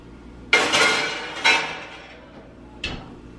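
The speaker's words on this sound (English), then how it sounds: "so I'm gonna put this in the oven." Pecan-ball cookie pan going into a preheated oven, three metallic clanks and rattles, the first two ringing out for a moment before fading, the last a short sharp knock, close and clear with no talk.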